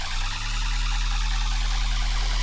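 A thick, sustained tearout bass synth drone made in Serum 2, run through a diffuser filter, rumbles steadily with a hazy, washed-out noisy texture above it, loud and unbroken.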